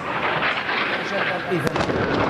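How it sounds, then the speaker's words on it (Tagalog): Explosions from an Israeli airstrike hit buildings of the Syrian Defense Ministry in Damascus, Syria. A dense, continuous rumble of blasts is heard with one sharper crack near the end, all at steady loudness. "Makikita ang sunod-sunod na pagsabog sa mga gusali na bahagi ng Syrian Defense Ministry"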